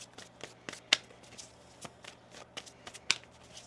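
Cards are shuffled in quick riffling bursts, crisp papery flicks and snaps repeating close to the microphone.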